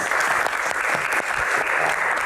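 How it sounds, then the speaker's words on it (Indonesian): Audience applause welcoming a guest at a talk-show-style Q&A about Hajj supervision, dense steady clapping from a sizable crowd, loud and close throughout the short clip with no voices. "Tepuk tangan kita sambut Pak Ade."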